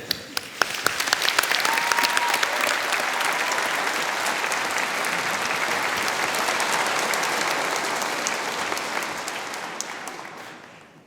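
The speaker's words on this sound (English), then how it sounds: "You're allowed to clap, cheer, and whatever." Sustained applause from a large audience at a university graduation ceremony, dense clapping swelling quickly and holding steady before tapering off at the end, with no speech over it.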